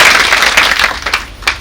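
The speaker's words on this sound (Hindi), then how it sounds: "आप सभी इनके लिए एक बार ताली बजाइए।" Clapping from the audience at a teachers' conference in Chitrakoot, loud and close at the start, then fading with a few scattered sharp claps trailing off.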